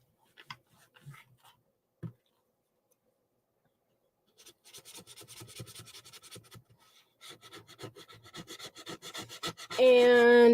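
A handheld scraper rasps glue off a surface in uneven rubbing strokes, starting with a few isolated scrapes and building into steady close-up scraping that grows louder toward the end.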